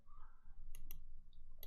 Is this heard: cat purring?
no